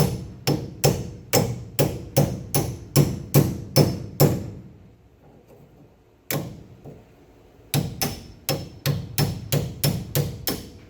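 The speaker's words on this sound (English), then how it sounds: "Finish driving it out there, and I'm just using a punch here, holding it with some pliers." A hammer strikes a punch held in pliers to drive out a sway bar part on a 1970 VW Bus, loud sharp metallic blows in quick regular bursts, then a pause, then more rapid strikes.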